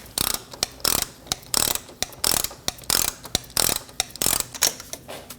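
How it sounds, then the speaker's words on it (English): A ratchet turns a 27mm socket to snug down a steering knuckle bolt on a 2012-2022 Volkswagen Passat. It gives loud, close, rapid clicking bursts in a steady back-and-forth rhythm with no talk. "Using a 27mm socket, we're going to snug down the bolt."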